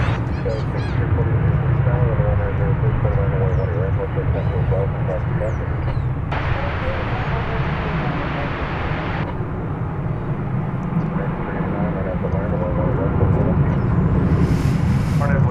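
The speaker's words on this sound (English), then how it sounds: "Another Airbus A321." An American Airlines Airbus A321 airliner at DFW Airport, its engines a steady loud roar and whine that hold throughout, with someone talking over the noise.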